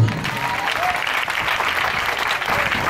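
A church congregation applauds the Lord during a Sunday service, with dense, sustained clapping from a large crowd that stays loud and steady throughout.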